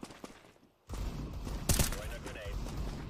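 Gunfire in Counter-Strike 2 on the Dust2 map: after a quiet start, a quick volley of shots breaks out, peaking in one loud close blast, while a player's voice talks over the exchange.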